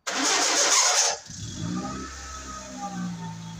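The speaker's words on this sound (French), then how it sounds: "Je n'ai jamais eu ce genre de problème de bruit au démarrage." A Renault 21 GTL's starter motor, which has a persistent starting noise, whirs loudly for about a second, then the engine catches and settles into a low, steady idle.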